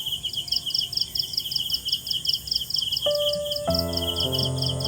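Crickets chirp in a fast, steady pulsing trill at moderate distance, running on without a break. Partway through, a louder sustained tone starts up, and a rich, harmonic musical sound follows.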